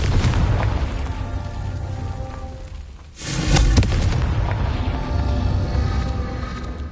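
A Confringo spell explosion in Hogwarts Legacy: a loud, deep booming blast lands midway after a brief dip, then rumbles and rolls away over a continuous low game soundscape, with no talk.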